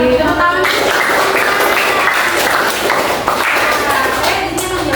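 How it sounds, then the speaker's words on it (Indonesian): A class in a learning simulation claps together, loud and continuous rhythmic hand-clapping from a nearby group, with voices mixed into the noise. "Tepuk tangan."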